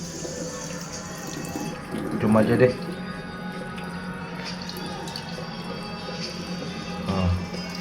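Water is poured over a motorcycle helmet intercom during a waterproof test, giving splashing and dripping bursts over a quiet background while a person speaks briefly.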